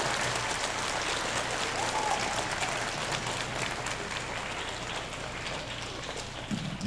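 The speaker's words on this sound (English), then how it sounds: "get a big round of applause if you love the Saints" Audience clapping at a school dedication ceremony in Kenner after a call to cheer for the Saints, a steady wash of applause that stays even throughout with a murmur of voices underneath.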